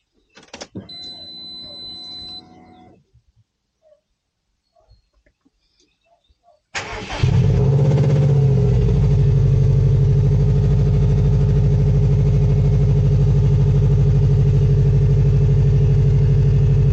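An old car with a flat engine cranks and catches after a quiet pause, then settles into a loud, steady, continuous idle that runs to the end.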